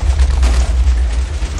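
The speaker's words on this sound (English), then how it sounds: "I was hoping none of these explosions hit me." Loud, continuous rumbling booms of missile explosions in the Missilewars minigame, a dense low-end roar with no clear breaks between blasts and no talk.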